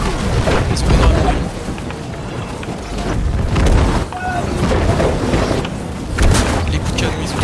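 Cannon fire in a multiplayer battle video game, a dense run of heavy booms and thuds rolling over one another, loud and close, with voices mixed in.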